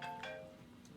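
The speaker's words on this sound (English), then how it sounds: "phone's ringing" A phone ringing in a home kitchen, a short electronic ringtone with a couple of bright tonal bursts, fairly quiet and heard alone with no talking.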